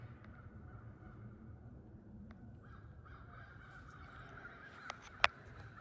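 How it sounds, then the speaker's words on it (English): Birds calling outdoors: a few cawing, honking calls against a low background rumble, with a sharp louder call near the end. "Do you hear all the birds?"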